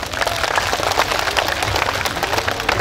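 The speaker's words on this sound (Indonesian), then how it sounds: "Tepuk tangan dulu untuk ibu-ibu." An audience applauds a group of mothers at a humorous Bugis-language Islamic sermon, a dense, steady wash of many hands clapping together throughout.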